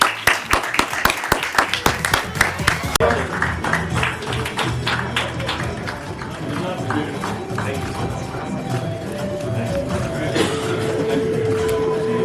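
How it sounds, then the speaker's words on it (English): Audience clapping at a CAF football press conference as presidents come up to the stage, starting with sharp, loud, uneven individual claps that merge into continuous applause, with voices and a brief tone near the end. "Can we clap hands for them as they come up here?"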